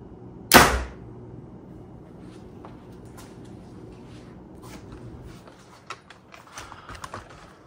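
An arrow shot from a bow through a sheet of paper for bare-shaft paper tuning, a single sharp loud snap and rip up front, then quiet room noise with a few faint light clicks and handling sounds.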